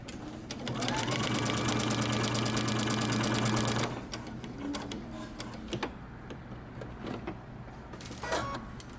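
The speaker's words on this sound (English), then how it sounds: "Now let's head over to the sewing machine." A sewing machine runs steadily for about four seconds as a seam is stitched on a men's button-up shirt, a loud, fast, even mechanical whir that then stops, leaving faint handling noises and light clicks.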